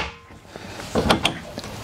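A slide drawer in the kitchen of a 2019 Newmar Dutch Star 4018 diesel motorhome is pulled along its runners, giving a short mechanical rattle and a couple of close clicks over a quiet room.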